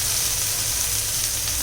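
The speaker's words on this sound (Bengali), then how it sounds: "আমি একটু নেড়ে নিই, একটু ভাজা হোক" Spices sizzling and frying hard in a hot pan while a prawn malai curry is prepared, a dense, even hiss close up and loud, with no talk.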